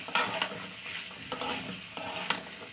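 Dried peas sautéing in oil with turmeric and garam masala for ghugni, a steady close sizzle broken by a few sharp scraping stirs of the spoon against the pan.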